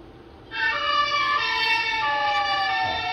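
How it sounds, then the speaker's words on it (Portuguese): A toy emergency vehicle siren on a miniature highway patrol or fire truck model switches on abruptly and holds a bright, electronic wail with a slowly falling pitch, close and steady. "Aqui o botãozinho da sirene, ó."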